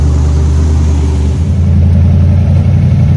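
Rebuilt motorcycle engine with bigger pipes, running on its first ride, giving a loud, close, deep exhaust rumble that steps up in pitch partway through as it revs.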